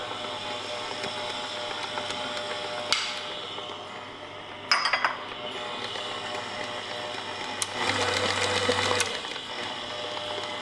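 An electric mixer whirs steadily through cake batter with eggs and vanilla in a home kitchen, a continuous close mechanical hum with a few clinks and bumps against the bowl, no talking.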